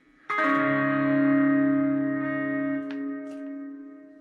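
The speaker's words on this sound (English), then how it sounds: "It starts on like a backwards drum." An electric guitar chord swells in abruptly like a reversed drum hit, then sustains with effects, chorus and reverb before thinning out, with a couple of faint clicks near the end.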